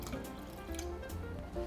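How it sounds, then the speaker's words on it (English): Water poured from a cup into a rice cooker holding rice and turmeric for a Filipino seafood paella, a soft, close dripping and trickling splash running steadily for under two seconds with no talking. "I'm gonna add 1/4 cup of water"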